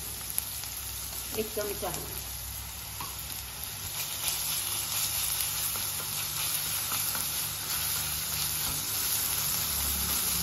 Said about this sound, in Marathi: कांदा चांगला परतला आलं लसूण पेस्ट घालून घेऊया